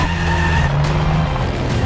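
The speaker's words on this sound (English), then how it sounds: "Just below us is probably a new FIA world record-breaking truck." FIA record-breaking truck roaring past at speed on its run, a short, loud, dense burst of engine and tire noise heard from above, sustained throughout without speech.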